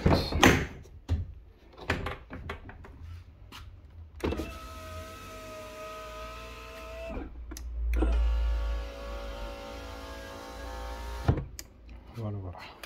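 Rear electric window on a car with a repaired regulator (6Q0959812C) hums as its motor drives the glass, two long whirring runs framed by door clunks and clicks, close and clear.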